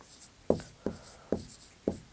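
Chalk or a marker taps and strokes on a board in five short, distinct hits spaced at a roughly steady pace, fairly faint and close, with no talk.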